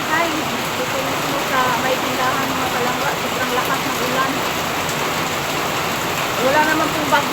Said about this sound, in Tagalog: grabe ang lakas ng ulan guys